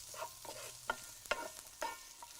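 Beans and vegetables being stirred in a frying pan, with a handful of soft scraping strokes at an irregular pace over a faint, steady sizzle, close by and fairly quiet.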